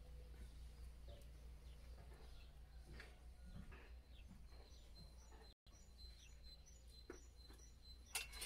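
A small bird sings in a garden, faint chirps and short whistled notes scattered over steady low background hum, with no talk.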